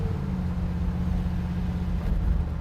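A 1957 Chevrolet Bel Air cruises down the road, its engine a steady low rumble with smooth, even road noise and no talking.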